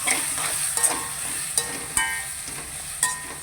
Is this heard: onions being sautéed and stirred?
yes